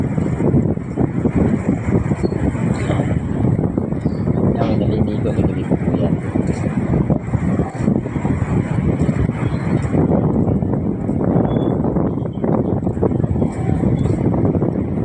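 Steady, loud wind roars against the microphone over a continuous wash of sea, with no pauses throughout.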